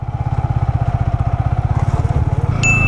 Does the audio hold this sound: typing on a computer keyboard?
no